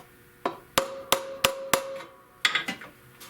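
A hammer flattens a bent metal valve cover from a Buick 350 or 455 with about eight sharp, ringing metallic strikes, an evenly spaced group followed by a quicker cluster, close up with no talking.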